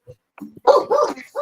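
A dog barks in a quick burst of several close, loud barks while people chat indoors nearby.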